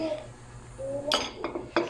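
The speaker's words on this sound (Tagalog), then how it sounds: "Tayo magkuha sa pinggan." Plates are picked up and set down with a few sharp clinks of dishes and cutlery close by, partly under a voice.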